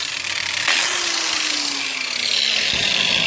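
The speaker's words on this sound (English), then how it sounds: "you always want to keep two hands on the grinder at the same time" A Black & Decker angle grinder runs steadily at close range, a continuous high whine with a faint gentle pitch drift and brief bumps, with no voices.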